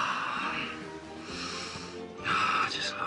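A man in a TV soap gasps after sex, giving close, breathy, snorting gasps in uneven bursts, the loudest near the end.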